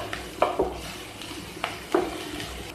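Garlic, chilli and ginger fry in a pan for aloo chop, with a steady low sizzle broken by a few sharp scrapes of a spoon stirring against the pan.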